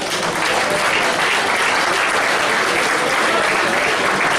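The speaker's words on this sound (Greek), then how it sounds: "ένα μεγάλο ευχαριστώ και ένα μεγάλο χειροκρότημα στους απλούς αγωνιστές" Sustained applause from an audience at a New Democracy party event in Greece, a dense steady clapping that fills the whole stretch without a pause.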